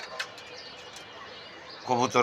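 Soft pigeon coos and chirps sound close by on a rooftop, and a voice cuts in briefly at the end.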